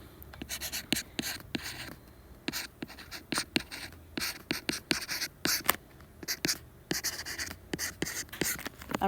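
Pen strokes scratch quickly across paper while math is worked out by hand on partial fractions, a close, irregular run of short scribbles and taps with brief pauses between.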